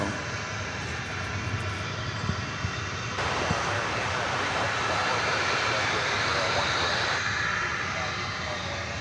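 A 20-year-old Japan Airlines Boeing 777 jet in oneworld livery at DFW Airport gives a steady, broad engine roar that swells louder in the middle and then eases slightly, continuous throughout with no pauses.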